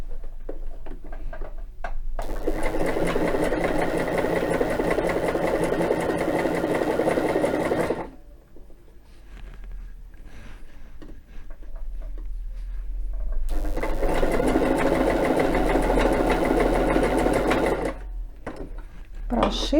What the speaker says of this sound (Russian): Итак, начинаем шить. Опускаем лапку